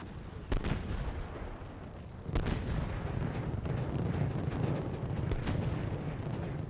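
ICM artillery shells landing behind a position in a winter battle in Steel Beasts Pro PE, heard as three or four heavy booming impacts with sharp cracks over a constant dense rumble, loud and close, without talk.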